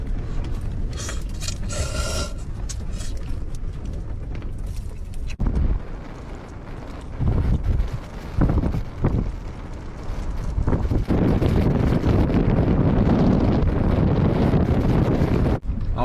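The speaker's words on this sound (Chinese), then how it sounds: "外面还是狂风呼呼呼的" Strong gusting wind buffets the outside of a small camper van parked in open country, roaring steadily against the walls and microphone with heavier surges toward the end.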